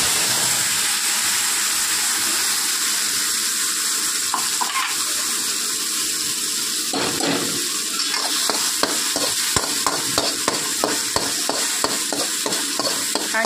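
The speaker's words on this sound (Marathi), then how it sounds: "हे वाटण चांगलं तेलामध्ये परतून घ्यायचं" A green chili paste with rock salt and turmeric sizzles in oil in a pan, first a steady fry, then a run of rhythmic scraping stirs growing quicker toward the end.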